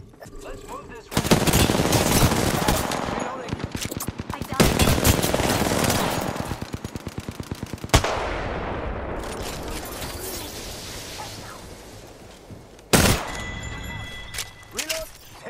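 Gunfire in the video game Apex Legends, sharp rapid automatic bursts in several long volleys with single heavy shots between, loud and close, with a voice talking over parts of it.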